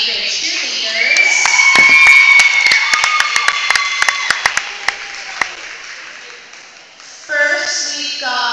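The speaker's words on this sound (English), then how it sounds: "give a round of applause to our 8th grade cheerleaders" A school crowd applauds and cheers for eighth grade cheerleaders at a Raa vs. Griffin game, loud sustained clapping with shouts and whistles for several seconds, fading, then a brief burst of cheering near the end.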